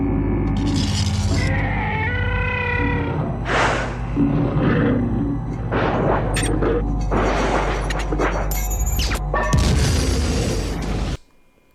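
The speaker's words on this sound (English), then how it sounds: "thus setting off a tripwire and blowing themselves up in the process" Explosion in the film Carnosaur 2 as velociraptors set off a tripwire beside explosives: a loud, continuous, dense roar of blasts, bursts and crashing debris lasting several seconds, then cutting off abruptly.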